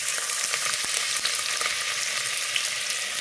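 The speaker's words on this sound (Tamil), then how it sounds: "இப்போ கொஞ்சோண்டு வெங்காயம் கட் பண்ணி வச்சுருக்கேன்னா இது கொஞ்சோண்டு இதோடு சேர்த்துக்கலாம்" Chopped onion fries in hot oil in a home kitchen, giving a loud, steady, close sizzle with a few faint stirring clicks throughout, and no talking.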